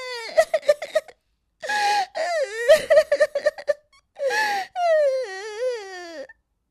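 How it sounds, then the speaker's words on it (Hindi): Crying in an animated story set in a forest, with a high, wavering wail in several sobbing bursts separated by short pauses, loud and close. "एक दिन वो जंगल में लकड़ी बीनने गई थी कि तभी उसे रोने की आवाज आती है।"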